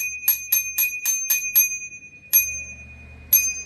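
A bicycle bell on a Vivi 750W folding electric mountain bike rings in a quick run of six bright dings, then two more single rings after short pauses, clear and close.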